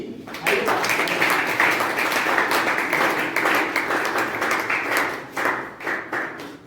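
An audience claps together at an event, a dense wash of hand claps that holds steady, then thins and wavers near the end, with faint voices underneath.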